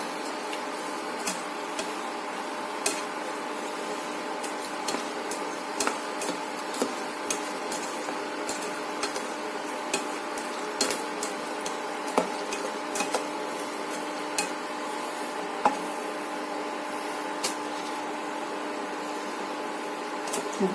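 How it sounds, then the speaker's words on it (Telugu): Ginger pieces fry in a pan with a steady, even sizzle, sprinkled with small ticks and pops, continuous and fairly close with no talking. "ముక్కలు వేగుతున్నాయి"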